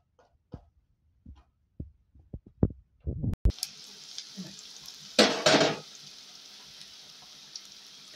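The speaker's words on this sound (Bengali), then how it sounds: "পেঁয়াজটা একটু লাল লাল করে ভাজে নেব" A few light clinks of utensils come first; then onions hit a pan of hot oil with a sudden loud sizzle that swells once more before settling into steady, fairly close frying.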